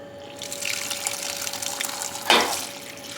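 Water streams steadily from a tap into a pot, with a brief louder splash near the end; no one speaks.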